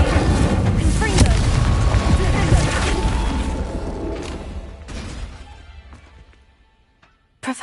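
A Confringo blasting curse explodes in Hogwarts Legacy with a loud, heavy boom and deep rumble that slowly fades over several seconds, ending in a short burst of noise.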